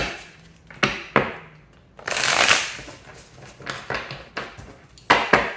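A deck of cards is shuffled close by: sharp riffle bursts and snaps, then a longer rippling shuffle, followed by a few more quick riffles.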